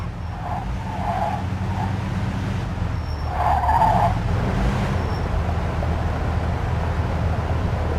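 A 1940s-style car in Mafia 2 rolls through a gate into a harbor yard, its engine rumbling steadily close by with a brief tire squeal midway, then settling back to a low idle-like drone.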